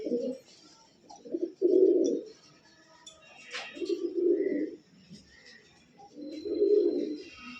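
Giribaz and colored pigeons in a loft coo in low, throaty bursts, several rolling calls repeating close by with quiet gaps between them.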